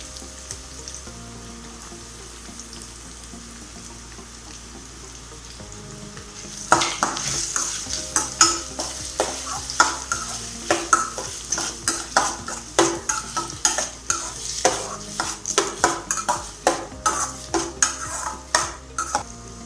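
Onions frying in a pan for potato masala: a quiet hiss for several seconds, then a loud sizzle with repeated scraping and clinking as a utensil stirs them against the metal, with no talking.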